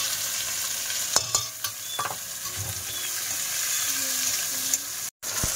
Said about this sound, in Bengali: পেঁয়াজ কুচি দিয়ে দেবো।